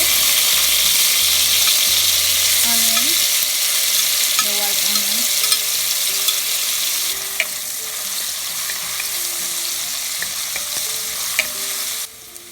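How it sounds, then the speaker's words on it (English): Minced garlic sautéing in a pan for palabok, a steady broadband sizzle with occasional stirring and scraping clicks, close and fairly loud, with no voices. "We'll start to saute our minced garlic."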